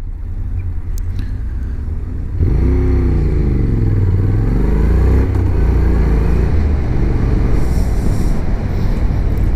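A car driving through town, quiet cabin rumble at first, then a louder engine note rising and falling with gear changes and wind noise close to the microphone.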